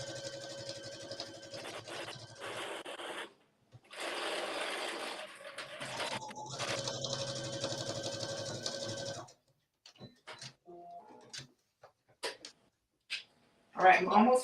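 A domestic sewing machine stitches a True Bias Blair skirt in several runs, a steady close mechanical whirr with pauses between bursts, followed by scattered quieter handling sounds.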